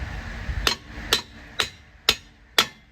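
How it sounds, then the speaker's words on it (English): Five sharp metal strikes of a hammer on the end of an old axle bolt on a 2000 Toyota Corolla, evenly spaced about half a second apart, close and ringing briefly, with no talk. "give a little smack on the end of that axle bolt"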